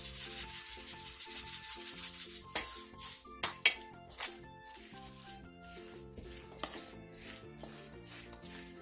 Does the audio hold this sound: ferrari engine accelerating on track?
no